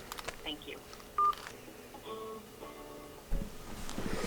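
Telephone keypad tones as a number is dialed to reach a scheduling office, a quick series of short beeps in sequence, fairly quiet, with a few faint noises between presses.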